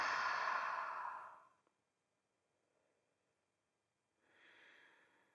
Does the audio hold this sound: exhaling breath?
yes